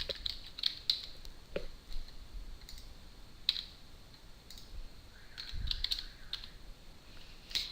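Typing on a computer keyboard, a scattered run of light clicking keystrokes in short bursts with pauses and a few heavier taps, close and fairly quiet, without speech.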